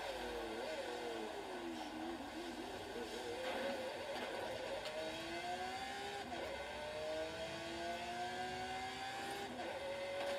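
A race car engine in Forza Horizon 5 revs loud and high, its pitch climbing through gears with repeated upshift drops and rising sweeps, a continuous driving roar with no speech.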